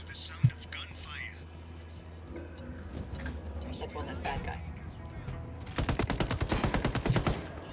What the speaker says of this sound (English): listening to the sound of gunfire?